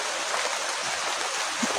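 Heavy rain falls in a constant, dense rushing hiss, loud and unbroken, with no voices over it.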